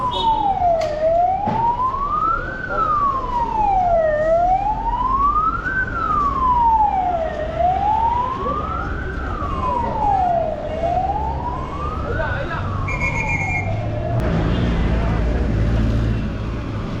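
An ambulance siren wails steadily up and down in a repeating cycle, loud and close, over the rumble of road traffic in Hargeisa, Somaliland.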